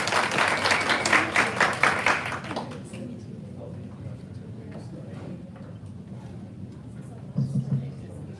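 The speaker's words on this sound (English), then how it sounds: "Let's give them a round of applause" A burst of applause from a group after student oral presentations at a senior design expo, lively clapping for a couple of seconds that fades into quiet room tone, with a brief patter near the end.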